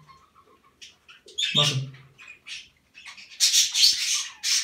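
A small nightingale kept in a home breeding setup gives a scatter of short chirps and one louder squawk, close and fairly faint, with a brief spoken word at the start.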